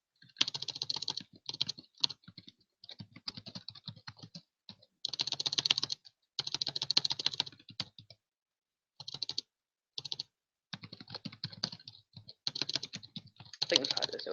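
Computer keyboard typing while entering commands on Kali Linux, bursts of quick clicky keystrokes separated by short pauses, close and fairly quiet.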